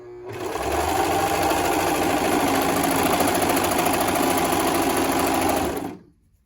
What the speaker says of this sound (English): I'm gonna run a 1/4 inch stitch down the side here, and that will sandwich all 3 of these pieces